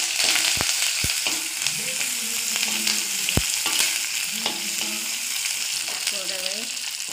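Tempering spices for sambar sizzle steadily in hot oil, giving a constant close frying hiss with occasional pops and stirring clinks. A faint voice is heard in the background.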